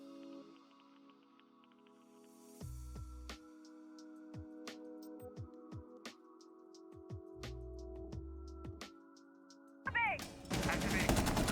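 Capitao's light machine gun in Rainbow Six Siege, a 100-round-magazine LMG, fires short bursts of sharp shots with separate single cracks between them. Game music and other effects play alongside, and a dense, loud stretch of sound fills the end.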